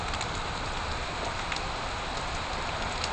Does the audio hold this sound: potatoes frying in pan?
no